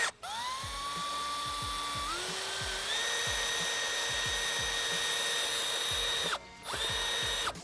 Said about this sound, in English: Now we're gonna use a 1/4" drill bit. We're gonna put a quick hole through each spot that we marked.